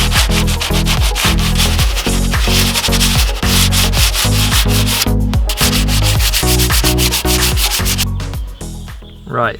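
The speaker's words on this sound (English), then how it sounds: "I have filled the holes on the rusty patch and sanded it back down" Sandpaper rubs back and forth over filled holes on a rusty patch of a Pajero's steel body, a loud, close, rhythmic scraping with steady strokes running throughout and no voices.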